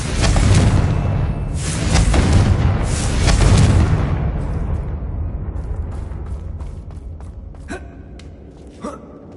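A Confringo fire spell from Hogwarts Legacy erupts in a series of heavy, rumbling blasts close up, then fades into crackling debris and small scattered impacts.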